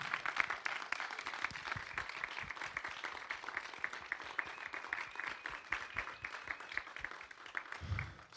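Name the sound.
audience applause for keynote speaker Chris Hedges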